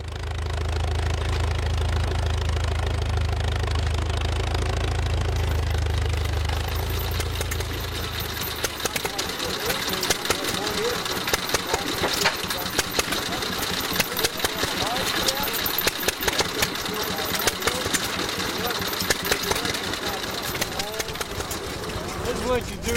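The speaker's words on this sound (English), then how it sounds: "the activity today with the antique tractors and the antique gas engines" Antique gas engines at an outdoor tractor show, a low steady idle at first, then rapid irregular hit-and-miss firing thumps and knocks continuing, with people talking throughout.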